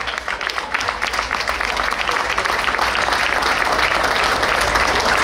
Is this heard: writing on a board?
no